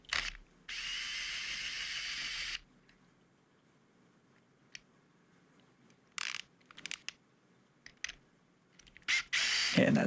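Screws come out of the wheel drivetrain and motor gear of a 56,000-watt electric skateboard. A power driver whirs continuously for about two seconds, then short mechanical bursts and clicks follow in a quiet workspace, with no talking.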